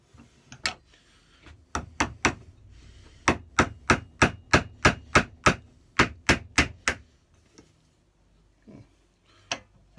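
Sharp, evenly spaced hammer blows from a short-handled hammer drive a screw into wood in a steady run of about a dozen hits, with a few scattered taps before and after.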